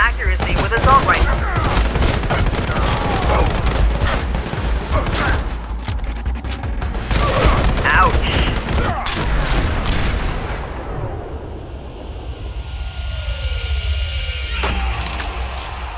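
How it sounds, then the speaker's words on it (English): Assault rifle fire crackles in the Sniper Fury mobile shooter game as loud, sustained bursts with heavy booms and a steady rumble underneath, thinning out near the end. "Zoom in to increase your accuracy with assault rifle."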